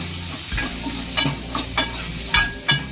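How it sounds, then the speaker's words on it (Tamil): Onion, garlic and shallots fry in hot oil in a pan with dried chillies, a steady close sizzle broken by several scraping stirs of a spoon against the pan, no voices. "இப்போ வெங்காயம் பூண்டு சின்ன வெங்காயம் சேர்த்துருக்கேன் அது சேர்த்து நல்லா பொன்னிறமாக வறுத்துக்கலாம்"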